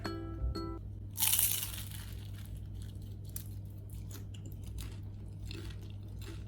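Someone bites into a crispy banana and ube turon, a fried Filipino spring-roll snack, giving one sharp close crunch followed by quieter crackly chewing over a steady low hum.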